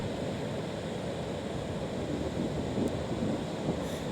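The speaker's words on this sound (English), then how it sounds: "The waves are getting stronger and coming up the beach farther and farther." Ocean surf on an incoming tide rushes steadily up the beach, a loud continuous roar of breaking waves with wind buffeting, no voices.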